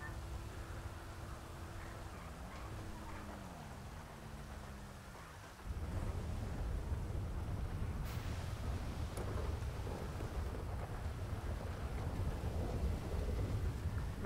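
Heavy rain and rumbling thunder in GTA V, on a FiveM roleplay server during a flood: a dense, steady downpour with a low roll of thunder, growing louder and fuller midway, with no talk.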